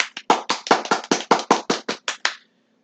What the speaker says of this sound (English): Let's just take a moment and let's clap for that.